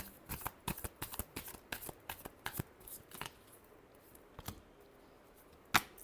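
Tarot cards being shuffled in a quick run of crisp riffling bursts, close and fairly quiet, followed by a couple of separate slaps and a last sharp snap near the end; no voices.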